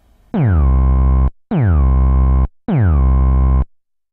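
Three Sylenth1 synth bass notes, each starting with a quick downward pitch swoop from a mod envelope before settling into a deep sustained tone, evenly spaced and loud.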